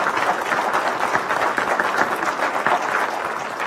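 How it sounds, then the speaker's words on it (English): An audience at a mayoral debate in a central library applauds the candidates, a dense wash of clapping holding steady and fairly close for several seconds, no speech on top. "Let's give them a big round of applause for all those great answers."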